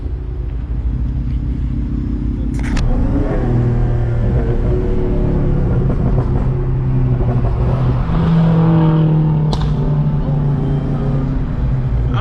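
A Dodge SRT Hellcat weaves through traffic, its engine a loud, close, continuous low drone that rises and falls as it accelerates and shifts, with a couple of sharp clunks along the way.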